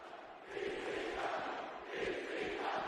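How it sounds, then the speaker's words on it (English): Crowd chanting in the wrestling video game WWE '13, a muffled, distant roar of many voices that swells in two rhythmic waves, heard alone without nearby talk. "What? Who's chanting?"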